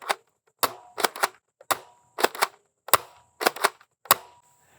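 NERF Elite 2.0 Ranger PD-5 blaster firing foam darts at a target, a sharp close snap with each shot, about ten shots in quick irregular pairs and singles, with no talk.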